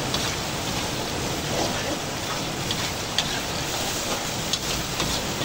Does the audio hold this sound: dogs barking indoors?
no